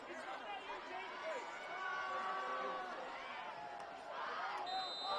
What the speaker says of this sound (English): Panther home crowd as loud as ever, continuing to cheer their team on